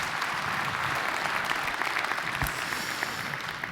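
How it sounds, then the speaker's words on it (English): A conference audience gives a warm round of applause for a speaker, a dense, even wash of clapping held steady throughout at moderate level. "I think we gave him a very warm round of applause"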